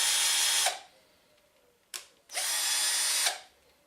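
A Parkside PABS 20-Li D4 cordless drill runs in two loud bursts of steady high-speed whirring, each ending in a winding-down whine, with a brief click between them and no talk.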